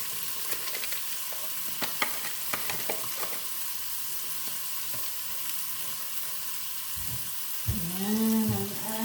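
Tuna frying in a pan after pepper is added, a steady soft sizzle running throughout with scattered clicks and light stirring taps, and a brief burst of louder bubbling near the end.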